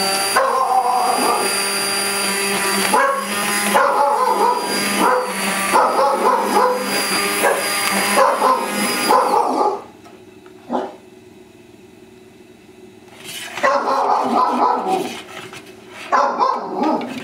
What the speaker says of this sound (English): Do I hear barking in the background there?